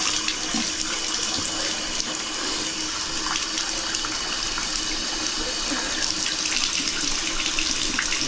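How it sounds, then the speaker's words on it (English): Water running steadily from a tap to rinse down a bathtub drain during unclogging, a continuous close splashing rush at even loudness with no talking. "Let me rinse that."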